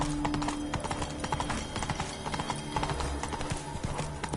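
Hooves of a horse trotting in The Witcher 3 video game, a brisk, steady clip-clop rhythm close by with no speech over it.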